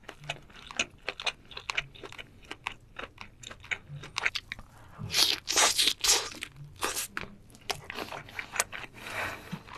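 Raw seafood dipped in sauce is bitten and chewed close to the mic, giving a steady run of crisp crunches, wet smacks and sharp clicks in an irregular rhythm.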